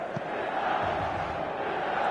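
A dense stadium crowd roars and buzzes steadily in an eFootball PS4 match at the San Siro, a continuous wash of distant voices and chanting.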